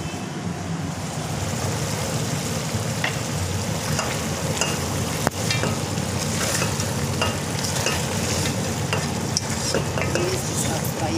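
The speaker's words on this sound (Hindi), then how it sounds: "तो वो जब तक हमारा थोड़ा फ्राई हो जाएगा चिकन" Desi chicken frying in a pan, a loud continuous sizzle with scattered crackles and pops throughout, close up and steady, no voices.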